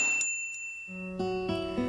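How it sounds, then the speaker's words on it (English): A small shop bell above a thick store door rings out in bright, clear metallic tones within the Katawa Shoujo visual novel, a few struck chimes after brief earlier tinkles, fairly quiet. "I push the thick door and enter the store, a bell above me ringing out"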